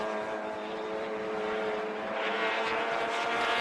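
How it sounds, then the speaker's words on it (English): Touring race cars at Chang International Circuit in Thailand, engines droning steadily and loudly as the pack circulates, with a rising surge of revs toward the end and no talk over it. "This is touring car racing."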